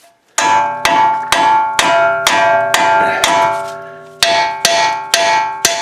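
A metal hammer strikes a tie rod end on a Chevy Colorado about a dozen times in a steady rhythm, each blow ringing with a bright, bell-like clang that decays quickly.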